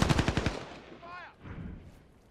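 Shield turret gunfire in the video game Call of Duty Modern Warfare: a rapid burst of about six loud shots in the first half-second, followed by a short whistling effect and faint background noise.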